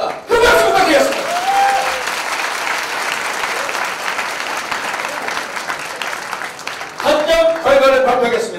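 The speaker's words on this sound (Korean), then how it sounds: "그 박수 받겠습니다" Crowd applause fills a kickboxing-style fight arena as a match result nears, loud and sustained for several seconds, with an announcer's voice speaking over it at the start and again at the end.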